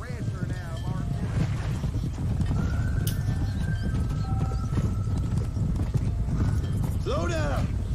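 A horse in the video game Red Dead Redemption gallops with a rapid, continuous clip-clop of hooves, loud and close, with neighs and whinnies near the start and end while someone talks over it.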